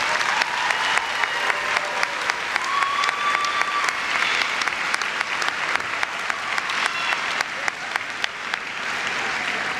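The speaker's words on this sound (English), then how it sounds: "Let's give them a round of applause." Dense, steady audience applause fills a commencement ceremony hall, loud and sustained throughout without pause.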